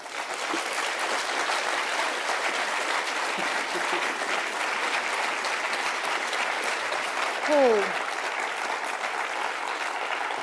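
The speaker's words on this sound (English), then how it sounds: "Just a long round of applause, Jenny." A long, sustained round of audience applause at a women in technology session at a tech conference, an even, dense clapping that holds steady throughout, with a brief whoop rising briefly above it.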